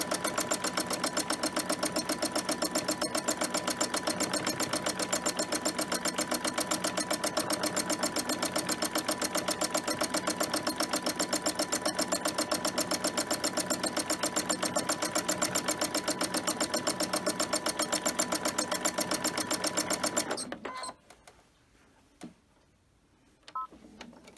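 Sewing machine free-motion quilting fabric for a bag: a fast, steady mechanical needle chatter running continuously and close for about twenty seconds, then stopping abruptly into near silence with a few faint clicks.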